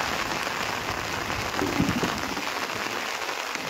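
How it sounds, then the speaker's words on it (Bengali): Heavy rain pours steadily over the rough open sea of the Bay of Bengal around a small wooden fishing boat, a dense, even hiss of drops that holds constant throughout with no voices. "প্রচণ্ড বৃষ্টিও হচ্ছে"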